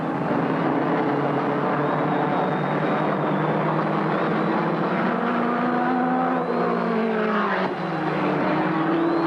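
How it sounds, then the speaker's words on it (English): Midget race cars roar around Auburndale Speedway in a 1975 NAMAR event, a loud, continuous engine drone with shifting pitch as the cars race down the back straight. "With all the marbles on the line, Newt White explodes his number 96 down the back chute on the high side"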